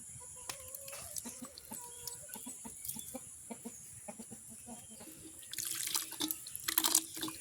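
Chickens cluck softly in short, scattered bursts, with faint dripping water in the background and a brief louder burst of activity near the end.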